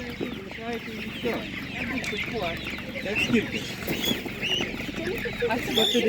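Many chickens cluck and chatter close by in a busy, overlapping flock at an animal market, with some other fowl calls, including ducks, mixed in and voices faintly beneath.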